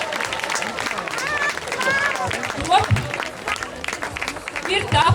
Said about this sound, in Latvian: Vajag aplausus!